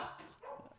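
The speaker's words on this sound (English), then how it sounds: "My dog's barking now." A dog barks a couple of times nearby, short sharp yelps, over faint room sound.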